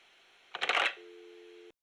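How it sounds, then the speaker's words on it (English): A brief burst of electronic chatter gives way to a steady synthetic ringing tone that holds for under a second and cuts off, a phone call alert in the video game Metal Gear Solid: Peace Walker. "Oh, that was a phone call."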